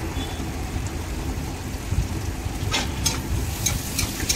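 Onions sizzle steadily in a hot pan for a rupchanda fish curry, a dense, even frying hiss with a few louder crackles toward the end and no talking.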